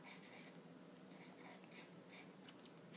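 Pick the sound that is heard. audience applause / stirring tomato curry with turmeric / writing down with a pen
writing down with a pen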